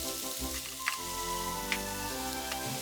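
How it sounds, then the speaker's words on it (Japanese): Vegetables and tomato stir-fry in a pan, a quiet continuous sizzle under a humming kitchen backdrop, broken by a few faint clinks. "余分な油をさっと拭いたら、野菜を炒めます。"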